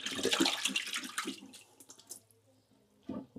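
A fish tank is rinsed in water, with lively splashing and sloshing at first that thins to faint trickles and drips, then a brief splash returns at the end.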